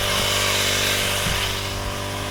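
A motorized grass cutter works through grass in a field, its engine giving a loud continuous buzzing drone that barely varies from start to finish.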